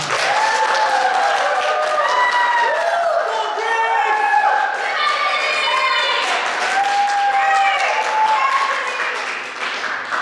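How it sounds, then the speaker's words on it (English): An audience at the INCinema 2024 film competition applauds loudly, steady clapping filling the room while whoops and cheering voices rise above it, tapering slightly toward the end. "Let's give them a round of applause."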